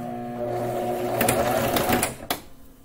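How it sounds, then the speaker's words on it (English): A sewing machine stitching a surgical mask, whirring steadily up close for about two seconds with rhythmic needle clatter, then stopping with a sharp clack. "And then you're just going to sew over that again."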